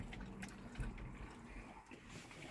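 Water splashes and trickles into a container as it is poured for dogs, faint and close, with small drips and gurgles throughout.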